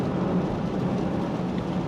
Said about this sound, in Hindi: और बारिश में गाड़ी चला रहा